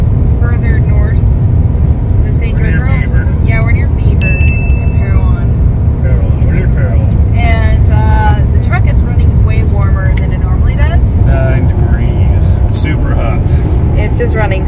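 A Chevrolet Colorado ZR2 Bison pickup with a suspected failing, overheating transmission cruises at highway speed, its steady road and engine drone continuous throughout while people talk inside the cab.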